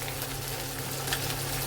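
Spices for egg curry (turmeric, garam masala, red chilli and coriander powder) fry in a pan with a soft, continuous sizzle and a low background hum. Faint and brief, with no talking.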